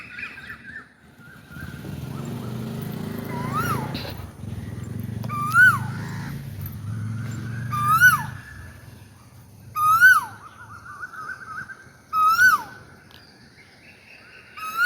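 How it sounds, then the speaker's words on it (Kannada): A koel calls repeatedly at regular intervals, each a sharp rising-falling whistle, clear and fairly close, over a low engine rumble early on. "ಕೋಗಿಲೆಯ ಕೂಗನ್ನು ಕೇಳಿದ್ರಲ್ವ"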